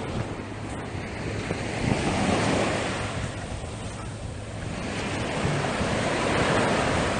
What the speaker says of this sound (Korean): 바닷가.